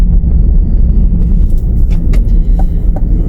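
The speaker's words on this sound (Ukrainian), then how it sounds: "Трішки вас провезу районом, куди їду." A car rolling through a quiet residential neighbourhood, with steady low road and engine rumble heard from inside, loud and continuous, plus a few faint ticks and clicks.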